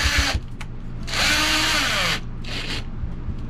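A cordless power drill drives screws in short bursts, a brief whir followed by a longer loaded run and then another short spin, close and fairly loud against a quiet room.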